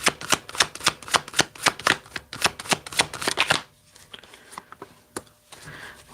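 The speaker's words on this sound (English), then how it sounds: "Shuffle these just lightly." Tarot cards shuffled lightly by hand, a quick run of crisp riffling flicks for several seconds, then quieter scattered shuffles and card taps.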